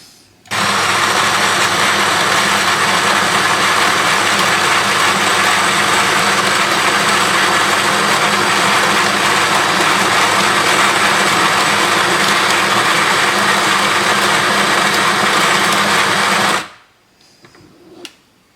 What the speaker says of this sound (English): I'm just going to grind 14 grams of, this one is Brazilian Santos, it's a whole bean.